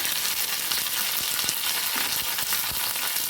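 Curry leaves fry in hot oil with a loud, continuous sizzle and crackle, dotted with sharper pops. No voices are heard.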